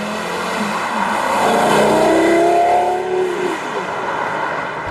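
Porsche Carrera GT engine heard from inside the cabin, a steady droning note that climbs in pitch as the car accelerates, then eases back, with a continuous road roar underneath.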